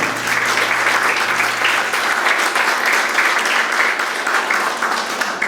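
A church congregation claps loudly in praise during a sermon, a dense, sustained wave of applause filling the room evenly for several seconds with no voices over it.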